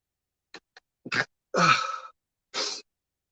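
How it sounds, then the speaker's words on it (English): A few short, sharp catching breaths build up, then a single sneeze bursts out, followed by a brief exhaled sound, all up close. "Oh God, this sneeze is really fighting back."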